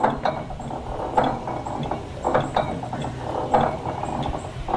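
A large 4,000-pound engine idles slowly on its governors, producing a rhythmic mechanical clanking and ratcheting beat, steady and fairly close, repeating about once per second.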